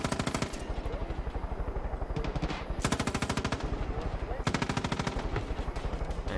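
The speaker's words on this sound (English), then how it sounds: "Light him up, Boomer! With your little fucking gun in your paws." Rapid automatic gunfire in the video game Far Cry 5, loud, close bursts of machine-gun fire with short pauses between volleys, over some faint background chatter.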